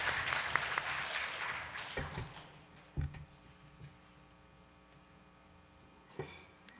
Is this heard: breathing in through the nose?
no